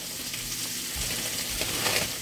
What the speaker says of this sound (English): So I'm gonna put the bacon up.